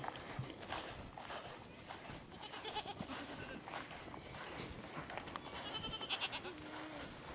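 Goats bleat on a farm, faint and scattered over soft footsteps and outdoor rustle, with someone talking.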